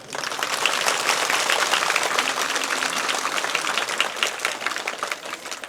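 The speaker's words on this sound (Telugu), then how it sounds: "మరి చెప్పాలంటే గట్టిగా ఒకసారి చప్పట్లు." An audience at a Hindu gathering in Kotpally bursts into loud, sustained applause, a dense wash of clapping hands lasting several seconds without letup.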